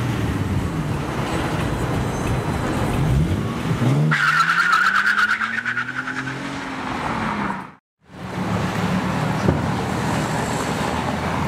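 A Nissan 370Z Nismo doing a burnout, its engine roaring and tires screeching in a long rising squeal, loud and close over background roadway noise, before a sudden brief cutout and return of traffic sound.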